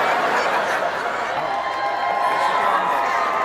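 A comedy club audience cheers and laughs, a dense, even crowd roar that holds steady throughout.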